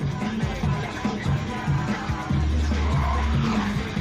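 Cars in the Blind Drive audio game skid and squeal their tires in repeated sharp bursts over a droning engine, loud and close, without talking.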